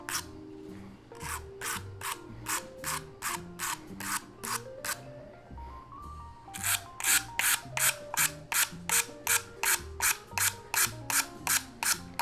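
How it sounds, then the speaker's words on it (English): A glass-cleaning scraper blade for a reef aquarium being sharpened, a rhythmic series of harsh rasping strokes, close and loud, with a short pause partway through before faster strokes resume. "So I'll attempt to sharpen this."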